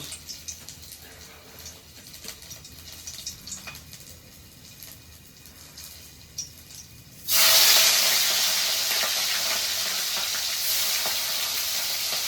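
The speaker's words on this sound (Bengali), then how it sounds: "আর এই চিংড়ি মাছটাকে এবার আমি ভাজা করব।" Shrimp hits hot oil and bursts into a loud, steady sizzle partway through, after quieter kitchen handling sounds and soft talk beforehand.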